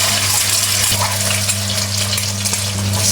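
Egg noodles fry loudly over a very hot fire, a dense continuous roar of sizzling with a steady low burner hum underneath and faint stirring scrapes, no talking.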